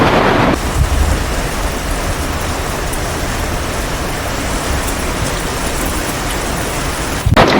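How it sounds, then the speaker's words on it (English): Heavy spring rain pours in a dense, constant hiss, with deep rumbling thunder rolling underneath throughout, loud and enveloping. "Going from raining a little bit to a full-on thunderstorm"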